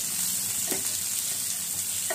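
Chopped onions fry in a pan for matar paneer, giving a steady, close hiss and sizzle that runs throughout, with a couple of faint scrapes as they are stirred.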